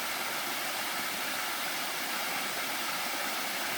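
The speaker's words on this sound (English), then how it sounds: "Just a charming little waterfall." A constant broadband rush of a small waterfall on a forest trail, steady and fairly close, with no voices or other sounds.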